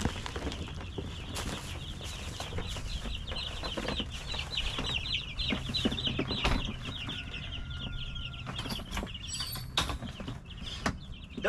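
A group of baby chicks being moved into a big brooder peep continuously in shrill, overlapping chirps, close by, with scattered rustling and bumps throughout and no speech.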